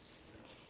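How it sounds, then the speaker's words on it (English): Cooking oil spray hisses briefly onto pieces set out for the grill: a short, soft, steady spray, faint and close, with no talking. "I want to spray it first with some spray"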